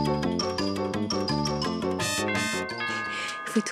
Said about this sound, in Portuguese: Fui tocar a campainha de casa.